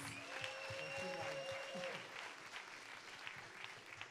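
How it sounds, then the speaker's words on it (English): Audience at a cultural awards ceremony applauding a youthful choir, a soft, distant ripple of clapping that is steady and then gradually thins, with faint voices and a tonal hum mixed in. "Please give them another round of applause"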